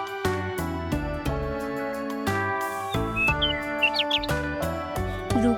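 A little bird perched on a rooftop in an animated drawing scene gives a few short, high chirps over gentle, steady background music.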